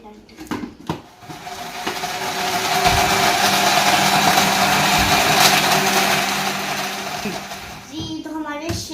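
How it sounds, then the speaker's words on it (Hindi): A kitchen blender whirs loudly for several seconds as it blends an Oreo ice cream shake with ice, rising from short bursts into a steady grinding roar, then easing off, with clattering handling at both ends. "अब हम लोग इसको ब्लेंड करेंगे"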